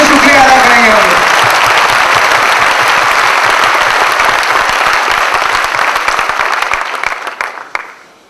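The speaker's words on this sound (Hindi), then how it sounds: "संतोष नायर जी और उनकी पूरी टीम का फिर एक बार तालियों की गड़गड़ाहट में तहे दिल से शुक्रिया अदा करेंगे हम लोग।" An audience at a stage event breaks into loud, thunderous applause just after a voice over a loudspeaker, the dense clapping holding steady, then thinning into scattered claps before fading out.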